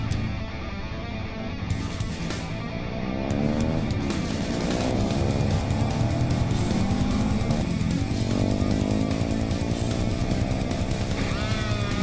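A CFMOTO 700MT motorcycle rides along a road, its engine droning steadily under heavy wind rush and road noise throughout.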